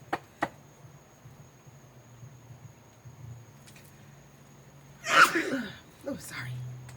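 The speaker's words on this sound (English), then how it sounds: "I feel a sneezing fit coming" A person has an allergy sneezing fit, with a sharp sneeze burst and a gasp followed by breathy noise, preceded by a couple of faint clicks in a quiet room.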